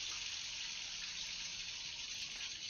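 A tap runs steadily in the background, a continuous even hiss of flowing water filling the whole stretch at moderate level with no voices.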